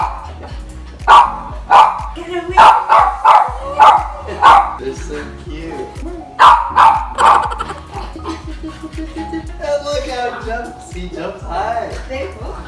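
Guard dogs bark in sharp bursts, a run of rapid close barks, a pause, then another volley, followed by softer yips and whimpers while people talk nearby.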